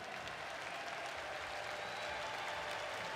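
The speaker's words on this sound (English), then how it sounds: "Let's give these gentlemen a round of applause for the game that they play" A large arena crowd at EVO 2022 claps steadily for the Street Fighter V top 8 players. The applause is dense, continuous and loud throughout, with no one speaking over it.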